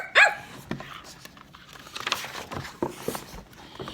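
A dog gives one sharp, excited bark near the start, followed by softer scuffling, pattering and small yips at a moderate distance.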